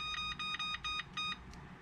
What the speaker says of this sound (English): I'm gonna set my timer